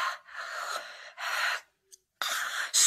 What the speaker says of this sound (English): This is where her breathing gets heavier.